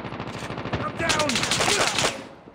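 Rapid automatic gunfire in a Call of Duty match on the Nuketown 2 map, dense close bursts over a couple of seconds with a voice faintly underneath.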